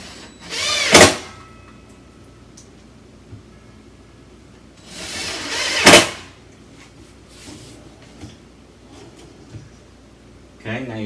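A wooden drawer slides along its newly installed drawer guide in two loud, separate runs, each a short rumbling slide that finishes in a sharp knock. A quieter thump follows at the end.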